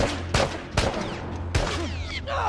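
Rapid gunfire from a multiplayer match of the video game The Last of Us, with several loud, sharp bursts of shots spaced through the moment over a steady background of game ambience.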